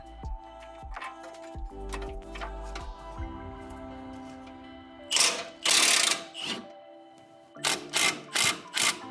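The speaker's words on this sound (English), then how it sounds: "we're gonna use an impact and see if it'll come right off" An impact wrench with a 21mm socket loosening a tie rod end nut on a BMW X5: a faint whining hum at first, then loud, close rattling hammer bursts, one around five to six seconds in and a rapid series near the end.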